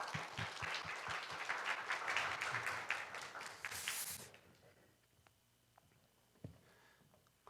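A church congregation at a Korean Sunday youth service claps together for about four seconds, dense and lively, then the applause stops sharply and leaves quiet room sound with a few faint bumps.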